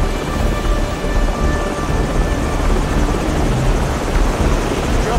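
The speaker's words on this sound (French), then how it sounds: "Attention, des hélicos ennemis approchent au nord-ouest et au sud-est." Enemy helicopters approach in the Call of Duty Modern Warfare 2 mission Loose Ends, a steady, loud rotor rumble and roar that holds throughout without letting up.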